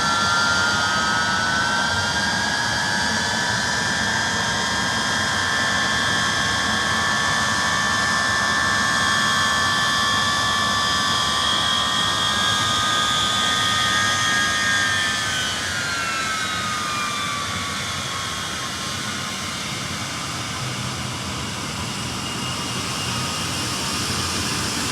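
Ilyushin IL-76 jet engines running on the ground at Juba before departure, a loud steady roar with whining turbine tones that rise and shift midway, no voices.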